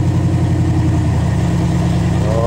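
A 1969 Ford F250 engine idles loudly and roughly after a cold start in freezing weather, a steady, close, throbbing rumble that stays even throughout.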